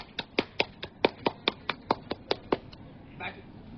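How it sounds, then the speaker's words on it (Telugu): A small group claps hands at an outdoor stop on a Himalayan mountain trek, about a dozen sharp, evenly spaced claps that fade into scattered taps, with faint voices behind. "చప్పట్లు కట్టరా."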